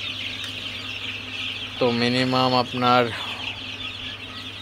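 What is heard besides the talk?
Sonali chickens and chicks clucking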